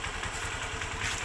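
A motorcycle engine idles close by, a steady low throbbing rumble with an even pulse and a constant hiss over it.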